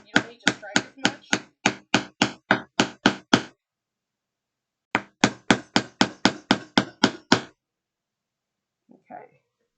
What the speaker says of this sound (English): We're done with hammering right this section.